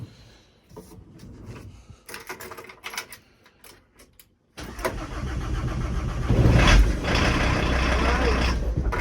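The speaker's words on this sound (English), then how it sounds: "I just need to start the engine just for a few seconds" A Volkswagen T4 van's engine is cranked and starts, a few clicks and rattles giving way to a loud, steady idle that swells briefly as it catches, while work on the power steering pump is underway.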